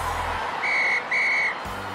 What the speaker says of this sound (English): And that's the final whistle.